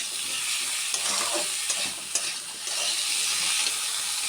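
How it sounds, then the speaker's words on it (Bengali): Papaya and potato pieces sizzle steadily in a hot pan while being stirred gently, with a constant bright frying hiss and occasional soft scraping clicks, and no talking. "পেঁপে আলুটা একটু হালকা করে নাড়াচাড়া করে নিচ্ছি"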